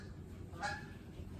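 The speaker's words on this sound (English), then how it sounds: "Just seagulls flying around and stuff." Seagulls call once in a brief honking burst while flying around outdoors, heard over steady background noise at moderate distance.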